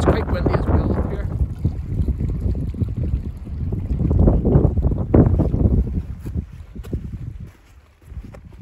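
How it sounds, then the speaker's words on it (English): Strong wind buffets the microphone on an Irish mountaintop at dusk, a loud steady roar with gusty swells that eases near the end. "It's quite windy as well up here."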